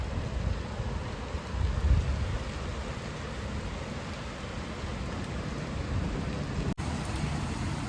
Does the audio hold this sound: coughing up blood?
no